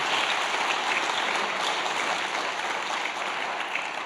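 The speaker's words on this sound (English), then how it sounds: "Could we give them a round of applause?" Sustained audience applause at a synagogue gathering of movement leaders, a dense, even roar of many hands clapping that stays loud and unbroken throughout with no talk over it.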